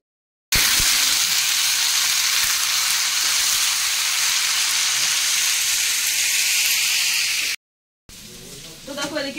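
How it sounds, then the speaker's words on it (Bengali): Potatoes fry in a home-kitchen pan with a loud, continuous sizzle and crackle close up for several seconds, stopping abruptly before a quieter stretch. "এই যে আলু ভাজা করছি"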